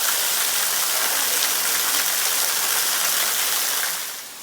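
Steady broadband roar of a waterfall splashing down beside a hiking trail in Green Mountain Preserve, Alabama, close and loud and continuous, easing slightly at the very end with no voices.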